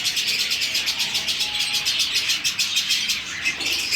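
Pet doves kept in a cage fill the space with a loud, continuous run of rapid, high, repeated calls that pulse steadily throughout, close by and with no voices.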